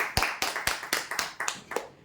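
A few hands clap in a steady rhythm for a winner at a prize draw, about nine evenly spaced claps, fairly quiet and close, with no talking.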